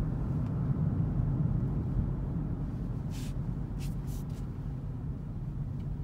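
A 2019 Toyota C-HR Limited taking curves, a steady low engine and road rumble heard from inside the cabin with faint brief hisses toward the end.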